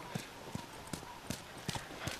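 Horse hooves clip-clop in a steady trotting rhythm, moderately close, with faint background ambience, from the video game The Last of Us.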